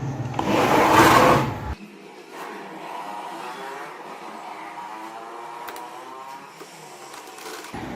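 A sewing machine stitches baby frock fabric, opening with a loud close whirring burst that drops into a steady, softer mechanical hum continuing alone.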